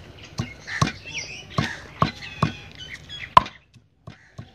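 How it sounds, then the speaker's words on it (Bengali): Cooked chicken is crushed on a stone slab with a grinding stone, giving about ten irregular knocks and scraping thuds of stone on stone, close and fairly loud with quiet gaps between, and no talk. "এমনি করে সবগুলাই মাংস আমরা সেচে নেব"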